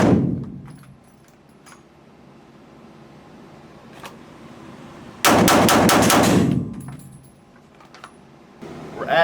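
A Smith & Wesson M&P 2.0 9mm pistol fires a rapid string of about five shots drawn from a holster at an outdoor range, loud and close, with a faint isolated shot earlier and another burst starting at the end.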